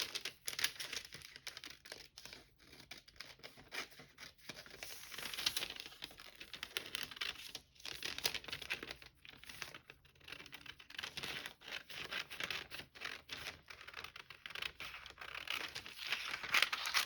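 Paper for a junk journal is cut out with close, faint crisp snips and crinkling rustles that come in irregular bursts with short pauses between them.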